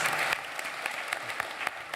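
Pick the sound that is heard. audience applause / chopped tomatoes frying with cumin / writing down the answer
audience applause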